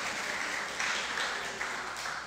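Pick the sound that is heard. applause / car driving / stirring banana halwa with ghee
applause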